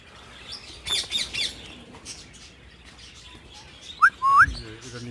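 Grey parrots in a breeding setup give short bursts of chirps and whistled calls, a cluster near the start and two sharp rising whistles near the end, heard fairly close amid quiet room noise.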